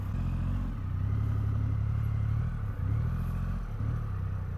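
A Triumph Rocket 3 R 2500cc motorcycle engine idles with a deep, steady rumble and gets blipped a few times, each short rev swelling and falling back, close and loud with no talk.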